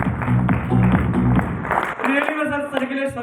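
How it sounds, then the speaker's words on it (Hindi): Audience applause at a direct selling business meeting, a short burst of clapping under a speaker's voice that fades as the talking carries on. "किशन सर एक बार जोरदार ताली होना"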